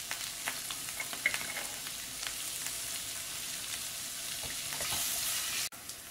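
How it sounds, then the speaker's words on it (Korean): Carrot strips sizzle and crackle in a heated pan as they are stir-fried with a couple of pinches of roasted sea salt, a close, continuous frying hiss with small scraping stirs, cut short near the end. "팬이 달궈지면 당근을 넣고 볶다가 이런 천일염 구운 소금을 2꼬집 정도 뿌려서 볶아주세요."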